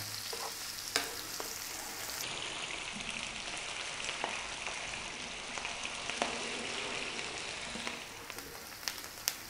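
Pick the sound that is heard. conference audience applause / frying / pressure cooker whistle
frying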